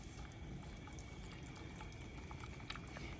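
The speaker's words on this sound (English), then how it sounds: "It's already bubbling around the edges." Sauce for an oven-baked Russian chicken dish bubbling gently as it heats on the stove, a soft, steady simmer with faint pops, quiet and close, with no voices.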